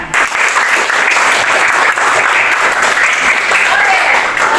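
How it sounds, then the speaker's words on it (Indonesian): Students in a classroom clap together after group presentations, a sustained even patter of many hands that fills the room for several seconds, with faint voices mixed in. "Dan kita bertepuk tangan untuk kita semuanya."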